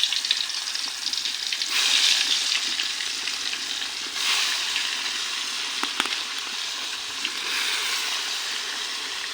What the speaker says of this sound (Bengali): মাছগুলো মশলা মাখছি, এখন ভাজায় বসাবো।